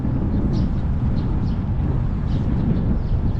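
Steady roaring wind noise rushes past while riding a bicycle on a quiet country road, a constant close rumble that buffets the microphone with no pauses.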